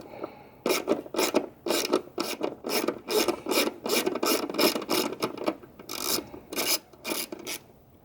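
Screws being worked loose behind a wiring harness in the engine bay of a Jeep Wrangler 3.6L, a close series of rasping, grinding turns in short bursts with brief pauses, steady and fairly loud, with no voices.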